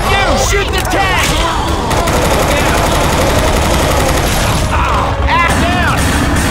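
Sustained heavy gunfire from several survivors shooting at the Tank in the Left 4 Dead 2 zombie co-op shooter. Rapid overlapping shots fire continuously over dense game noise and yelled voices.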